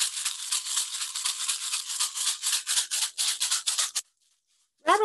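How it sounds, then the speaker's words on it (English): A hand rattle filled with corn is shaken in quick rhythmic bursts, a dry, bright swishing rattle repeating steadily and close for about four seconds before a pause, then starting again briefly. "Another great way is with a rattle, and you would do the same thing, running through your auric field by rattling."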